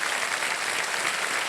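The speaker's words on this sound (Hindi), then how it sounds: "तालियां बज जाए इनके लिए।" Studio audience applause on the KBC quiz show, a steady, full wash of many hands clapping together throughout, with no gaps.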